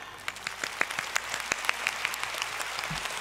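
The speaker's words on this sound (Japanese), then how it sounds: "大きな拍手をいただけますでしょうか。" An audience at a Monster Strike championship event in Japan applauds. The clapping is steady and sustained in a large hall, with sharper individual claps standing out.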